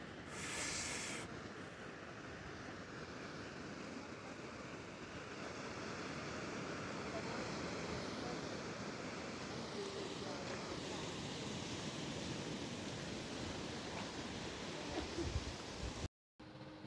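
Sea waves wash steadily onto the shore at Liepāja in a continuous broad surf roar with a little wind, unchanging and fairly close throughout.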